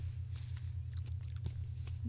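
Someone chews a crunchy Reese's chocolate candy up close, with soft irregular crunches and bites over a low steady hum.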